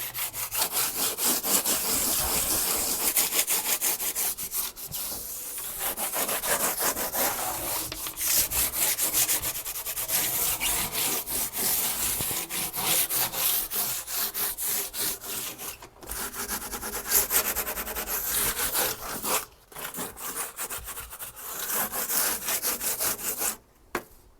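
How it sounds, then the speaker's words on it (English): Hand sanding smooths a wooden frame for a koi pond viewing window, loud close rhythmic scraping strokes repeating in bursts with brief pauses between runs. "All sanded down in places. So there's no knobbles, no bits, no nothing now."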